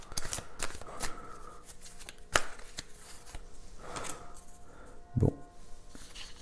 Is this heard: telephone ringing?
no